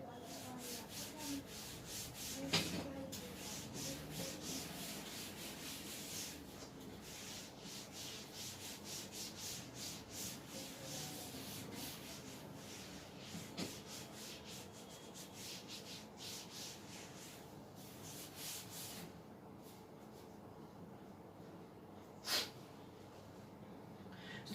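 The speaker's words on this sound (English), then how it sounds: "So I'm rubbing this first." Steady rubbing or sanding strokes on an object during a physics demonstration, a continuous scraping texture over about twenty-five seconds with a couple of sharper knocks, fairly quiet and with no talking.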